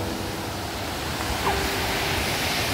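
Waterfall in the Columbia River Gorge, Oregon, gives off a constant broadband rush of falling water, close and steady throughout with no clear voices.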